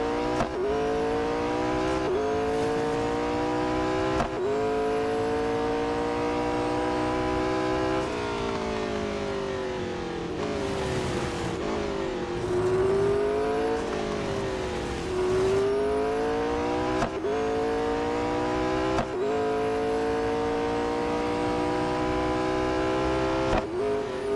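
A McLaren race car engine in Real Racing 3 revs steadily and loudly without a break, its pitch rising and falling with gear changes and one deep dip near the middle, and no voices over it.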